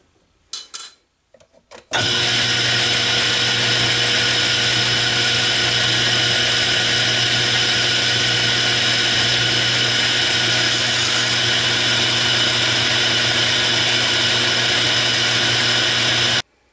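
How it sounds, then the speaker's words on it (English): Metal being drilled through with a number 7 number drill bit in a home workshop, a steady loud motor whine running continuously for about fifteen seconds after brief handling noises. "I'll be drilling it through with the number 7 drill"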